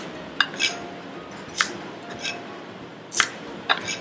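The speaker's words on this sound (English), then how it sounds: "You just want to give the shallots a cut into half" A chef's knife halving shallots on a cutting board in a kitchen: several sharp, separate chops and clicks of blade on board at uneven intervals, close and crisp over quiet room noise.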